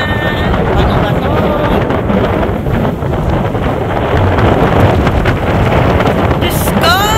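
Strong wind buffets the microphone on a coastal outing at Verdens Ende in Norway, a steady, loud roar of rumbling gusts filling the whole clip, with faint voices mixed in.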